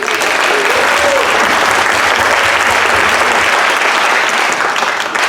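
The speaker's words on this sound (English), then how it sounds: "giving a big round of applause to the CEO and President of the Salinas Valley Chamber of Commerce" A housing summit audience in Salinas, California, applauds the CEO and President of the Salinas Valley Chamber of Commerce, with loud, dense clapping that holds steady throughout.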